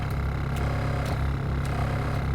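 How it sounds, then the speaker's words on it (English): Cold Toyota Corolla engine idling, a low steady hum and vibration droning through the car interior, constant and close with faint periodic clicks and no talking. "The whole interior is just humming."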